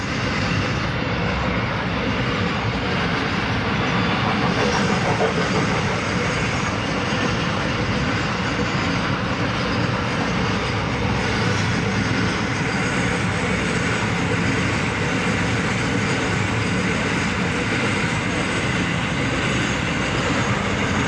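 A freight train about two kilometres long rolls past steadily and loudly, a continuous rumble of wagons with faint clatter that never lets up.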